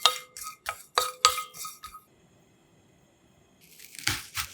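Dried anchovies rattle and crunch in a pan over medium-low heat as they are stirred in a handful of close, distinct bursts, followed by a quiet pause and a final scrape.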